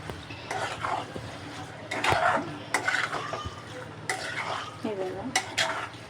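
Liver masala being stirred in a pan, with a spoon scraping and clinking against the metal over a low sizzle while someone talks throughout.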